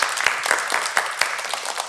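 Lively applause from a concert audience of emotional labor workers, close and fairly loud, with individual claps forming an uneven rhythm.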